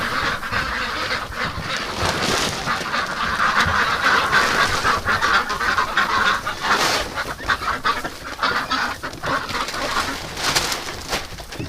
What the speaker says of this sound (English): I'm coming with food, ducks. It sounds loud inside the barn.